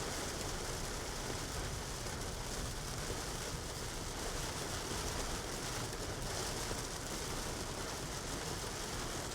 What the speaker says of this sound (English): I don't think I've seen it this rainy